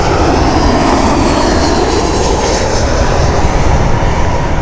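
British Airways jet airliner on runway 27 left at Heathrow, a loud steady roar of engines holding constant throughout with no voices over it.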